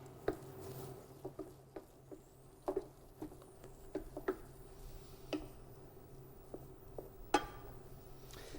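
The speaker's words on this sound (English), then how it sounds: "I'm going to be very vigorous in stirring to make this into a smooth paste" Choux paste is stirred vigorously in a pot, giving a steady patter of soft, irregular taps and scrapes close by, with quiet kitchen background and no talking.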